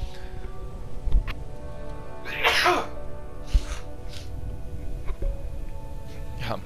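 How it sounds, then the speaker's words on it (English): One sharp sneeze bursts out near the mic partway through, over a steady hum of game background sound with a few faint clicks. "I'm about to sneeze."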